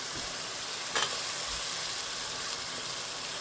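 Green onion and tomato fry with fenugreek and spinach in a pan, giving a soft continuous sizzle and hiss with a faint stir or clink near the start.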